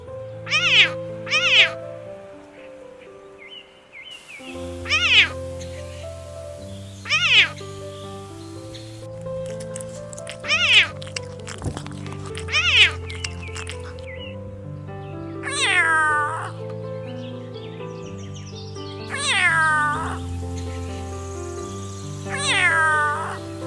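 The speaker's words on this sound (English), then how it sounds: "The animal name is cat." Cats meow again and again in short, clear cries. Some are drawn out and rising, with gaps between them, over a soft melodic music background.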